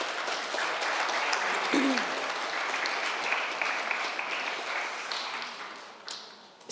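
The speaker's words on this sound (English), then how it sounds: "Another round of applause for our panelists" An audience at an anniversary event applauds panelists, with dense, sustained clapping that carries steadily and tapers off near the end.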